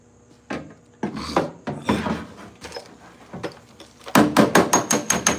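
Repeated hammer blows on a die against the sheet-metal body of a 1968 Pontiac LeMans: scattered, irregular knocks at first, then a fast run of about seven sharp, ringing metallic strikes close by, with no talking.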